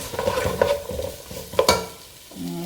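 Sliced onions and slit green chilies stirred in a hot pan for butter chicken, giving a close sizzle broken by spatula scrapes and knocks against the pan, with no talking.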